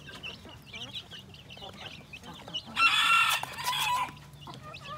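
Young chicks raised without a brooding hen on a small farm, peeping and clucking close by, broken by a louder, denser burst of calls midway, with no talking.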